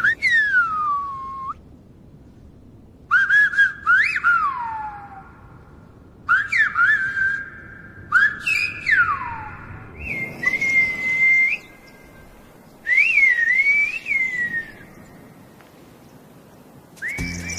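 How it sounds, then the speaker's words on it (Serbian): Whistled language: a person communicates in clear, loud whistled phrases with rising and falling pitch glides, delivered in several separate bursts with pauses between them. "ljudi bez problema mogu sporazumevati zviždanjem"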